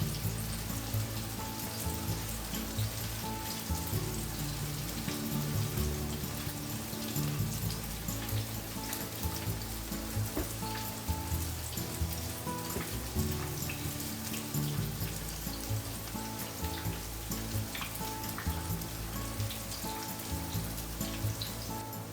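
Vegetable tempura kakiage fries in hot oil, a dense, steady crackle and patter of bubbling that carries on evenly without pause, close up and with no voices.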